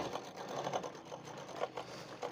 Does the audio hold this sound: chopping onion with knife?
no